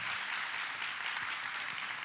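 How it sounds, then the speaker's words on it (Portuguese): Steady applause from a church congregation, moderately quiet and continuous for the whole stretch, with no voices on top. "Então vamos aplaudir a vida dela."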